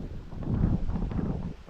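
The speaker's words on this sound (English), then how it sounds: "the wind is very strong that's coming" Strong gusts from Cyclone Alfred sweep through a garden in New South Wales, Australia, with banana plants and cane in the garden. The wind makes a close, rough roar with buffeting on the microphone that swells and then eases.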